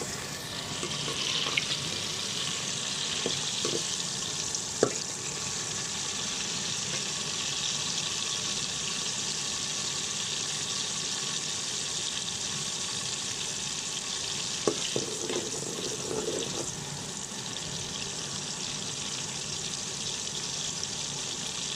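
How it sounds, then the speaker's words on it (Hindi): Chopped onions frying in oil in a pan for an aloo matar chicken curry, a steady dense sizzle throughout with occasional clinks of a spoon stirring against the pan, no talking. "अभी प्याज भुनना शुरू हो गए हैं।"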